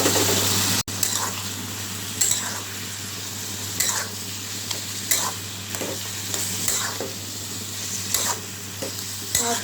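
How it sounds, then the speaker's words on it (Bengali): Papaya and potatoes frying in a pan for papaya ghonto, stirred repeatedly, giving a steady close sizzle broken by periodic scraping strokes of the spatula, with no talking. "আমি ভালো করে কষিয়ে তারপর নামিয়ে ফেলবো"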